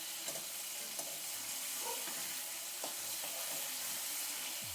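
Katla fish fries in a pan with a steady, close sizzle and hiss, broken by occasional pops, spatters and light scraping. Nobody speaks.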